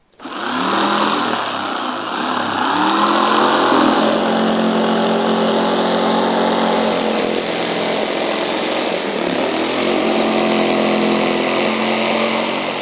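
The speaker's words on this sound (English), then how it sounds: "Then we're going to cut it out with a jigsaw." A jigsaw cuts through a wooden backing board, giving a steady, loud, buzzing motor whine with a rattling blade. It runs continuously for the whole stretch, close by, with no talking over it.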